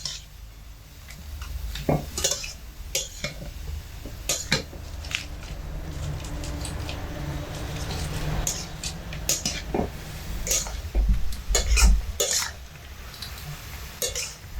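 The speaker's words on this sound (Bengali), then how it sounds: "বেশ 10 মিনিট সময় ধরে ঘিয়ের মধ্যে গাজর দিয়ে ভেজে নেব" A spatula knocks and scrapes against a pan as grated carrots fry in ghee over medium heat, giving irregular sharp clinks over a faint low sizzle, with no talking.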